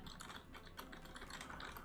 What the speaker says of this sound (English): It is picking up the keyboard clicks.